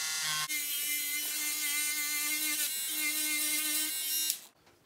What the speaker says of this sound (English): the Proxon pen sander is very useful for doing this